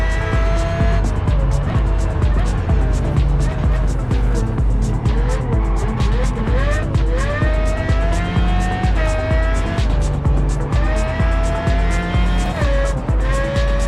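Hypercar engines roaring during a race in Test Drive Unlimited Solar Crown, a loud continuous whine that rises and falls with gear shifts, layered over steady tire noise and a pulsing rhythmic beat.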